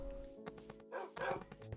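A dog barks in the video game Minecraft. Several short, moderately close woofs and yips come in an uneven series over faint background game sound.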